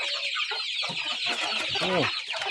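Burmese gamefowl chickens cluck at evening feeding time in Mae Sariang, with close, busy, repeated clucks and short calls overlapping in quick bursts and no talking.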